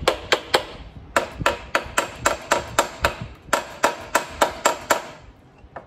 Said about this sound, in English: Maybe if I get a hammer and just gently tap on it.